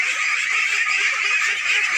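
Ducks on a village pond at an integrated duck farm give off a dense, continuous chorus of nasal honking quacks, close and loud with no pauses.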